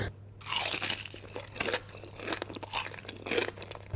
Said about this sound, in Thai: ต่อมาเป็นหอยแครงเขาบอกว่ากินได้ทั้งเปลือกเลย